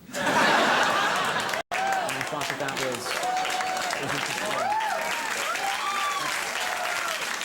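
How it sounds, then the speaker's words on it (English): Late-night monologue studio audience breaks into loud sustained applause with some laughter mixed in, a brief cut near the start, then steady clapping carrying on with a few voices over it. "Thought for a second, laugh, then some boos, then general applause."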